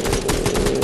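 A sniper rifle in an online shooter game fires in a rapid burst of sharp, loud cracks, several shots packed into under a second.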